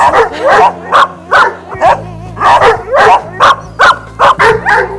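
Several dogs bark repeatedly in loud, overlapping bursts, with a steady low hum running underneath throughout.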